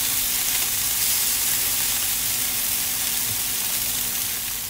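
Spinach patties frying crisp in a pan, a loud, steady close sizzle with a broad hiss that continues without a break.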